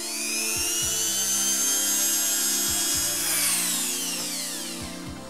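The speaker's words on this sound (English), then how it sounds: "I think we can begin the saw. So let's just begin sawing." A saw cuts through the plastic case of an Amiga 500 computer, a loud continuous whining buzz with rising and falling pitch and several brief stops, close up, with no talking.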